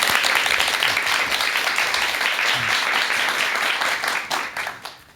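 Loud, sustained audience applause before a lecture on the Buddhist Eightfold Path, a dense wash of many hands clapping that holds steady and then tapers off at the end, with no talk over it.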